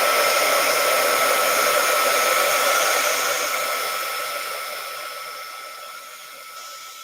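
A heat gun blows steadily to dry a watercolor painting of seashells, a continuous broadband whoosh with a tonal whine that holds loud and then gradually fades slightly over about seven seconds, with no talking.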